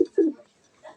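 A Pakistani Lahori pigeon gives short, soft coos close by, in two quick throaty notes and a fainter third, in a quiet pigeon loft.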